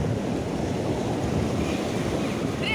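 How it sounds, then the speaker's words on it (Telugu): Ocean waves on a beach in late morning roll in as a steady, loud roar of surf mixed with wind noise, continuous and without pauses. "ఇక మధ్యాహ్నం అయ్యి కొలది ఇక్కడ బాగా పెద్ద అలలు అయితే వస్తాయి."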